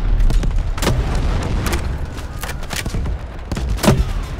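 Grenades and ordnance explode in Delta Force gameplay, a rapid barrage of loud booming blasts and thuds layered over constant rumbling battle noise.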